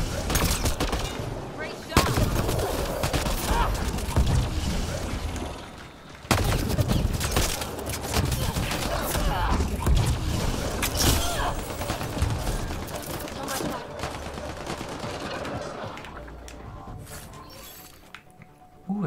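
Heavy shotgun blasts and rattling gunfire from the video game Mass Effect Andromeda, loud sharp bursts repeating through a busy combat mix with shattering debris, fading toward the end.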